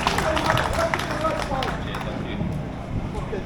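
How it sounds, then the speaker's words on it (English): Crowd at an outdoor protest in Peterhead applauding a speaker, steady dense clapping with crowd murmur throughout, fairly loud and sustained. "Big round of applause for Ryan, an up-and-coming"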